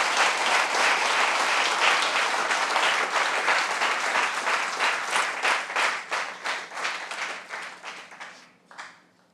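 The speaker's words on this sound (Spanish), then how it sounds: "Denle ese aplauso al Rey de gloria y majestad, con toda su fuerza, con todo su corazón." A church congregation applauds during a Spanish-language sermon, dense sustained clapping from many people filling the room, gradually thinning into a few separate claps before fading out.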